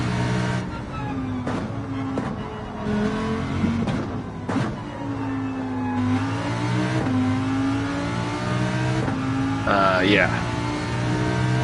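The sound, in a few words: race car engine held in second gear, video game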